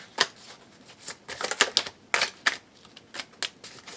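Osho Zen tarot cards being drawn and shuffled, a quick series of light, crisp papery flicks and slaps, close and fairly soft, with no talking.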